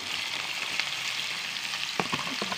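Ampalaya, bitter gourd, sautéing in a pan: a steady close hiss of frying with a few soft clacks of stirring near the end.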